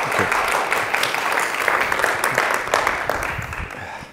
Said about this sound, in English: So if you would give a great round of applause